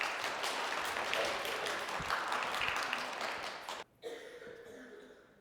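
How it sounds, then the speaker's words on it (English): Audience applause for a volunteer after a magic-show segment, a dense, steady wash of clapping that cuts out abruptly near the end, then a few scattered claps and murmurs. "Round of applause."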